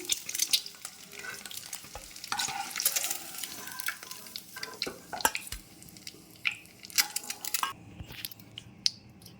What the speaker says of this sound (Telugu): వేగిపోయినాయండి గుడ్లు ఈ విధంగా వేగాక తీసేసుకోవాలి